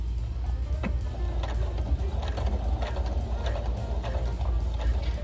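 A sewing machine back-stitches elastic on a fabric headband, a steady close mechanical whir with a rhythmic stitching clatter running continuously throughout without speech.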